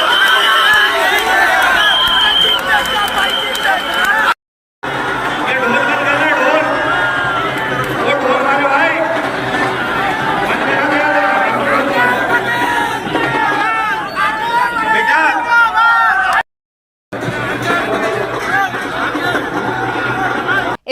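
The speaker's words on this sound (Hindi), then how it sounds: "इस रोड शो में जबरदस्त भीड़ देखी गई।" A large, dense crowd at Rahul Gandhi's road show in Bhopal, Madhya Pradesh, makes a continuous roar of chatter and shouting, loud and close, broken by two short silent gaps.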